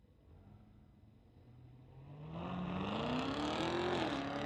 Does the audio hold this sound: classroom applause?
no